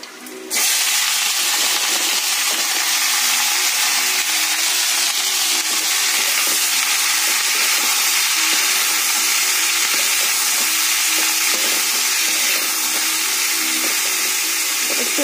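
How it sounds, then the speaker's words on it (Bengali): Cauliflower frying in a pan with black cumin seeds: a loud, steady, continuous sizzling hiss that starts abruptly and holds evenly throughout, close and unbroken. "এই যে ফুলকপিটা একদম পুরো দেখুন লাল করে একদম ভাজা হয়ে গেছে।"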